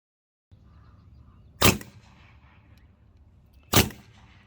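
Skout semi-auto airgun firing, two sharp cracking shots about two seconds apart, close and loud over quiet room noise.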